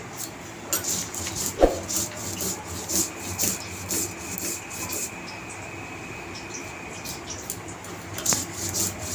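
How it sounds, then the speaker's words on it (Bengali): Spices being ground very fine on a grinding stone for a pointed gourd dish, giving a steady close rubbing and rasping scrape with a few sharper knocks. "এটা পটলটা কষা করার জন্য মশলাটা আমি বেটে নিচ্ছি। এটাও খুব মিহি করে বাটতে হবে।"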